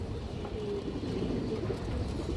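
A strong pigeon held up for display gives a soft, low cooing that sits under a steady background hum, faint and close.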